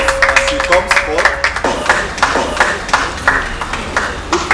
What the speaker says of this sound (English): Please a hand of applause as she comes forth.